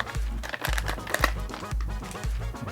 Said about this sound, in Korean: 그럼 개봉을 한번 해보도록 하겠습니다 음, 비닐백 포장으로 되어져 있고요